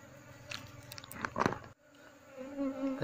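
Honey bees buzz while a wild colony's comb is moved into a hive box, a faint hum with a few closer passes and crackling handling noises.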